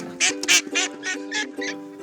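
A mallard duck quacks repeatedly, about six loud nasal quacks in a quick, regular series, close by with no talking.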